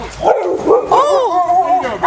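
A dog barks and yips close by in short excited bursts mixed with whimpering, while people talk over and around it.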